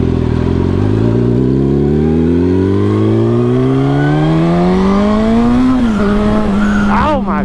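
A turbocharged Suzuki GSX-R1000 accelerates hard, its engine pitch climbing steadily through a long loud pull before a gear change and turbo whistle near the end, heard up close with a voice in the background.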